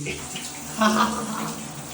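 Tap water runs steadily into a container, a continuous gushing splash with a brief louder surge in the middle, and a voice is faintly present.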